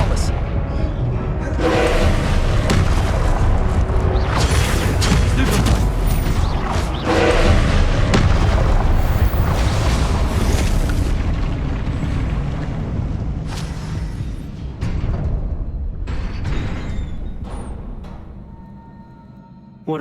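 A Confringo blasting spell explodes in the video game Hogwarts Legacy, a loud sustained booming blast with rumbling debris that fades toward the end, mixed with game effects.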